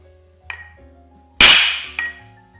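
A hammer strikes a crankshaft in a single sharp metallic clank, followed by a lighter tap and a fainter earlier knock, close by with a bright ringing decay.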